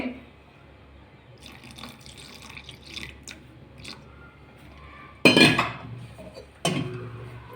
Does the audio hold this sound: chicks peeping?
no